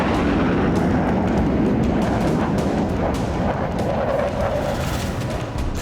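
Artillery fire during a military exercise booms repeatedly over a dense, roaring wash of sustained noise, loud and continuous throughout.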